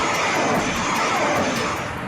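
A Russian Sukhoi Su-25 jet flies close overhead, its engine a loud, steady roar that fades slightly over two seconds, with no voices.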